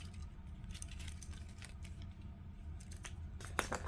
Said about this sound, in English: these cute little pull-out scissors